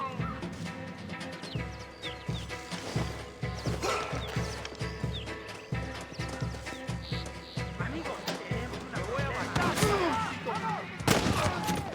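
Gunfire in the Western video game Red Dead Redemption, a shootout in a town with horses around, scattered shots cracking over constant background game noise as characters talk.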